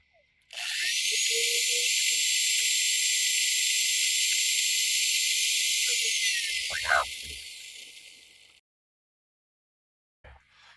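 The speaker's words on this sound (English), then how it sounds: "I'm going to record a small drill." A small drill whirs at high speed for about eight seconds, a steady close whine that starts abruptly, holds level, then dips and winds down with a clunk before falling silent.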